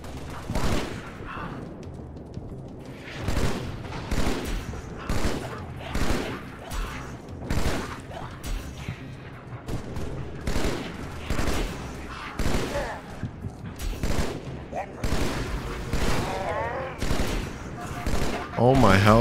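Rapid video game gunfire from Halo: Spartan Strike, bursts of automatic shots and thudding impacts repeating in clusters across the whole stretch, mixed with game dialogue and a player talking over the action.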